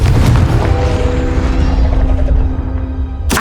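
A loud, booming fire-spell blast in Hogwarts Legacy, a heavy low roar that rumbles and slowly fades over a few seconds before a sharp click at the end.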